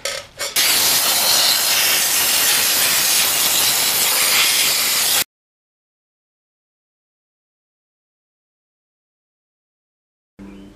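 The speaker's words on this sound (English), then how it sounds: "I'll just blow this out with some compressed air" Compressed air blasts through a Yamaha RD400 carburetor in a steady loud hiss lasting about five seconds, followed by silence and a brief final burst.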